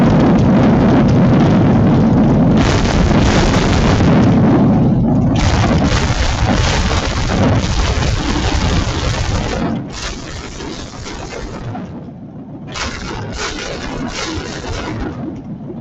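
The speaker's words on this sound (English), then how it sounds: "What you're hearing is exploding gasoline and air." A loud gasoline engine roars continuously, harsh and close, with rough churning noise and a few brief dips in intensity.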